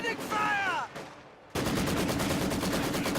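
Maxim machine gun fire in a Company of Heroes style match erupts loud and dense after a brief lull, a sustained rattling burst following a stretch of commentator speech.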